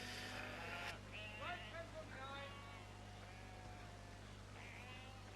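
Several sheep bleat in short, wavering calls over a low steady hum in Farming Simulator 17, the bleats coming in a scattered cluster and then fading to quiet background noise.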